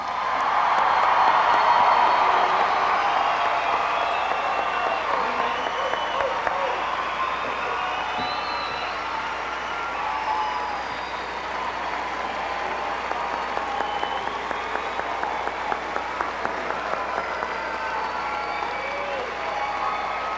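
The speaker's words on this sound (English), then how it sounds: "Let's give our graduates a round of applause." At a 1998 high school graduation ceremony, a large crowd applauds the graduates in sustained clapping with scattered cheers and whoops, loudest at the start and continuing throughout.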